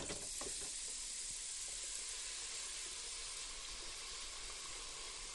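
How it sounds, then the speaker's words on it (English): Tootsie Rolls drop into a deep fryer and sizzle in hot oil, a constant bright bubbling hiss heard close and alone, quiet overall but steady throughout. "And then stick them in the fryer."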